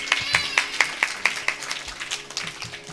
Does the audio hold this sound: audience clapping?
yes